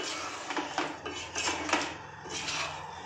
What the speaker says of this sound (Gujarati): હવે આપણે એને સારી રીતે મિક્સ કરી લઈશું.